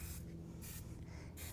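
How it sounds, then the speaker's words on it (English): Three short hissing sprays of oil-free mistifier moisturizer are applied to skin, each a soft, close burst over a low background hum. "Last thing I do is use our oil-free mistifier."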